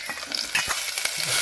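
Onion frying in hot oil in a pan for spicy Maggi noodles, a steady close sizzle with a few scrapes of stirring, no talk.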